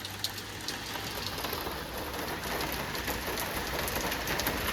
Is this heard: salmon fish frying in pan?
no